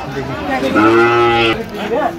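A Sahiwal bull moos once in a long, drawn-out call at a cattle market, with voices and crowd chatter around it before and after.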